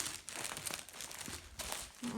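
Plastic cargo parcels crinkle and rustle as they are handled and shifted, in close, continuous crackling bursts with no voices.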